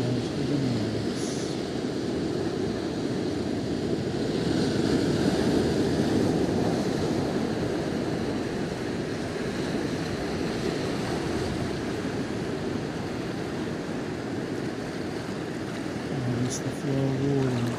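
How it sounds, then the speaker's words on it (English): Ocean surf rolls in and drains back out in a steady, continuous wash, loud and close throughout with a gusty, breezy edge on the shore. "Notice the water that comes in"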